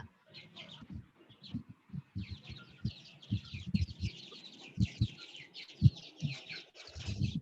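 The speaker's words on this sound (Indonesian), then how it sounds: "Itu bunyi ayam siapa?" A chicken clucks repeatedly in short, choppy bursts with a rooster-like quality, fairly close and clear, with no talking over it.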